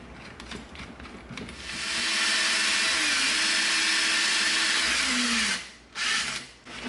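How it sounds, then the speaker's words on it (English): A Forstner bit bores through EVA foam with a steady rising power-tool whir, loud and sustained for several seconds before stopping, then a brief restart; no talking. "We used our Forstner bit, popped the hole through there"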